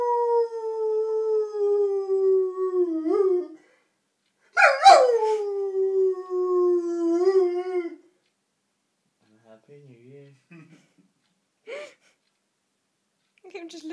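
A Rottweiler howls in long, sustained, wavering tones, two drawn-out howls separated by a short gap, loud and close, then fades into a few faint whimpers and yips.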